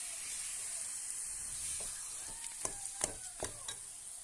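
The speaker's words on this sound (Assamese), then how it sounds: "এনেকৈ লৰাই থাকিব" Olive jelly being stirred in a pan on a gas stove, a steady soft sizzle with a few sharp scraping clicks of the spoon toward the end, close and alone.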